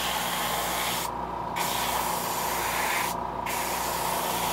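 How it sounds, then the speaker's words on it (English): An airbrush spraying light coats of paint onto a custom fishing lure, a steady close hiss over a constant low hum, with two brief pauses in the spray. "So I'm spraying light coats and heat setting between the coats"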